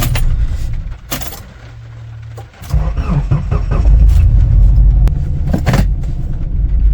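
A faulty car engine runs roughly and shakes, a loud, uneven low rumble that briefly dips and stutters before settling back into a steady drone, with scattered clunks and rattles.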